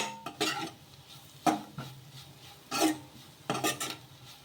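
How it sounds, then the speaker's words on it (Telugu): A spoon scrapes and clatters in a pan while chicken masala is stirred into a curry, with about five separate faint stirring strokes at an uneven rhythm and no talking. "ఇలా చికెన్ మసాలా కూడా వేసుకొని ఒకసారి బాగా కలిపేసుకుందాము"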